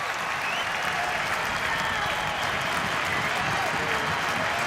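A packed Fenway Park baseball crowd cheering and applauding after a strikeout, a dense sustained roar of clapping and shouts filling the whole stretch, loud and steady.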